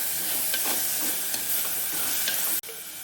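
Chopped tomatoes and onions sautéing in a pan, a loud, steady sizzle with faint stirring scrapes and taps throughout, then a brief drop before the sizzle resumes.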